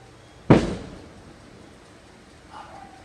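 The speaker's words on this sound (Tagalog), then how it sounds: "May pa-fireworks dito." A single sharp pop like a firecracker or fireworks burst rings out, then decays quickly, with a faint fainter sound following a couple of seconds later.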